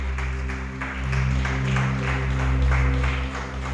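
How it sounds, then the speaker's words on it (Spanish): A church congregation applauds during an evening service, a sustained wash of many hands clapping together over a steady low hum of background music that swells and holds for the whole stretch. "¿Cuánto le dan ese fuerte aplauso al Espíritu Santo de Dios?"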